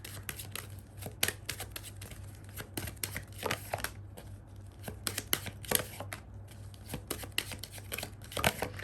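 Tarot cards being shuffled, a steady run of quick papery riffles and soft flicks close by, with brief louder snaps scattered through, alone over a low steady hum.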